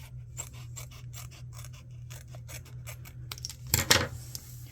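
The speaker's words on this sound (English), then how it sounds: "I'm just going to try to cut it out with my scissors" Quiet, rhythmic snips of scissors cutting through paper, a steady series of short clicks followed by a louder rustle near the end.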